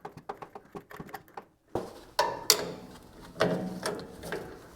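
Two 9/16 wrenches tightening jam nuts on new front shocks of a Ford F100, a string of close, sharp metallic clicks and ratcheting taps, then scattered louder clanks and scrapes.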